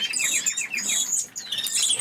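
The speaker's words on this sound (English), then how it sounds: "I've got a lot more canaries than I used to have." Canaries chirp and twitter continuously in an indoor bird room, bright overlapping rapid trills and tweets close by, fairly loud with no speech.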